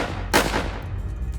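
A single loud gunshot cracks close by during a violent confrontation in a hall, where four people are shot on January 6th, 2021. The blast trails into a lingering rumble, with no talking.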